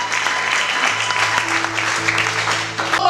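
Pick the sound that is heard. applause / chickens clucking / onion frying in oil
applause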